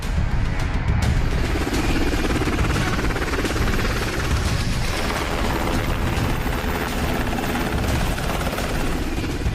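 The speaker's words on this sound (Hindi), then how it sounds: "ये अमेरिकी सेना का UH-60 ब्लैक हॉक हेलीकॉप्टर है।" A US Army UH-60 Black Hawk helicopter, loud and close, with a continuous thudding rotor beat and turbine roar held steady throughout.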